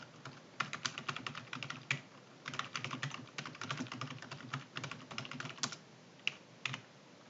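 Fingers tap out entries on a computer keyboard in quick, irregular bursts of crisp clicks, with short pauses and occasional heavier key presses, close and fairly quiet.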